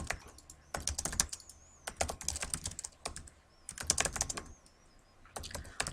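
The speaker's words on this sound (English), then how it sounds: "you could type a title there" Bursts of fast typing on a computer keyboard while laying out a website page, close and clear, with short pauses between the rapid runs of key clicks.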